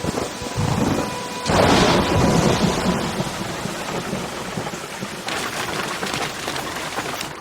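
Heavy anime rain pours steadily with a loud rumble of thunder swelling early and a second surge later, no voices.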